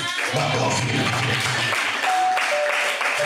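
Clapping from a church congregation at a Good Friday Easter service rises over the hall, a dense patter of many hands that carries on beneath a voice speaking through it.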